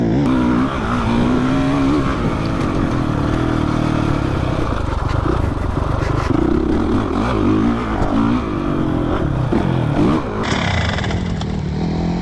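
A motocross motorcycle roars close by during braking practice, its engine pitch rising under acceleration and dropping as the rider brakes, loud and continuous.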